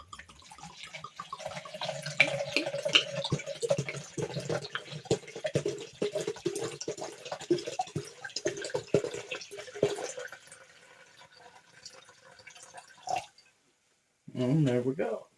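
Vinegar is poured into a measuring cup while making sweet pickled ginger, a close, trickling liquid stream with irregular splashy pulses lasting about ten seconds, followed by a pause and then brief talk.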